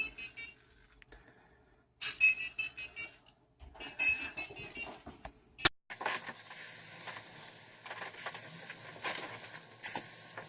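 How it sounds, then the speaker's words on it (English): Arduino laser tripwire home security alarm going off: bursts of rapid electronic beeping with gaps, a sharp click, then continuous fainter buzzing chatter. "So it's a very responsive alarm system."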